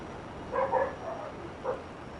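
Dogs bark in a GTA Online game: a couple of quick yaps close together, then a single further bark, fairly faint over a steady background hum with no talking.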